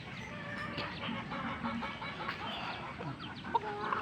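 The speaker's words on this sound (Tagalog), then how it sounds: "Yung amin mga manok yan." Backyard chickens clucking steadily at close range, several overlapping soft clucks and short calls with a few sharper squawks, over a quiet outdoor background.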